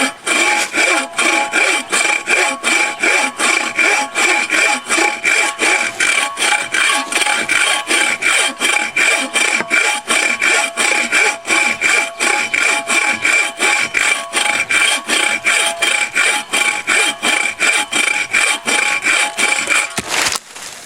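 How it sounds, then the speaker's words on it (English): A bow-style pack saw with a 22-inch blade cuts through wood in fast, even back-and-forth strokes, a loud rasping rhythm close up that continues steadily for about twenty seconds before stopping. "there's not a folding saw that they have out there that can compete with these saws when it comes to cutting wood like this"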